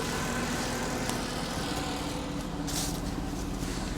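A V8 car engine runs steadily at close range, a continuous, fairly loud low rumble with a faint hum and no voices.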